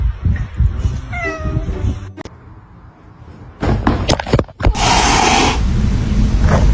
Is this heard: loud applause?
no